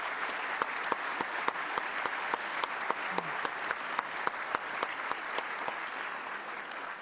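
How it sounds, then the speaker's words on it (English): A crowd of audience members at a business awards event applauds steadily, a dense wash of clapping with scattered sharper claps throughout, sustained and fairly loud without letting up. "how about a last thank you and round of applause for Roseanne Faust and the SAMCEDA staff mem"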